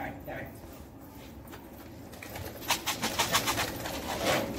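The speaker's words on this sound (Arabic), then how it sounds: "خلي الحمام تاكل براحتها عادي طبيعي على السطح" Pigeons cooing softly while feeding on a rooftop, a series of low rhythmic coos in the second half over a voice talking and calling out nearby.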